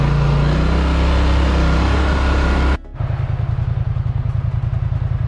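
A Polaris Scrambler XP 1000S ATV engine roars loud and close under throttle, then drops abruptly to a steady rapid idle-like putter for the remaining seconds.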